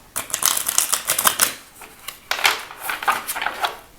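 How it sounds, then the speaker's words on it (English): Tarot cards being shuffled close up make two quick runs of crisp, rapid riffling and flicking clatter, separated by a short pause. "Just got to make sure it's shuffled properly."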